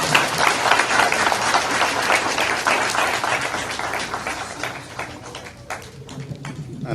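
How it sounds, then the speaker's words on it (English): An audience at a Class of 2024 graduation ceremony at Nevis Academy applauds loudly and steadily, then the clapping thins and fades toward the end. "Let's give her another round of applause"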